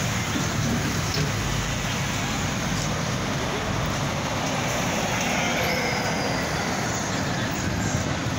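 A train rumbles past a station in Santo André, Brazil, loudly and continuously, with metallic wheel squeals and rattling carriages.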